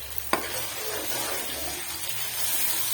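Ginger garlic paste hits hot oil in a pan of fried onions for a fish curry, with a brief clatter followed by a steady, crackling sizzle that continues throughout.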